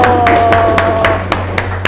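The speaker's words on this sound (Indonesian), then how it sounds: "Tepuk tangan dulu." A classroom of students claps for classmates' test scores, with a few rhythmic, sharp hand claps spaced roughly evenly in a short burst over a steady hum, nearby and fairly loud.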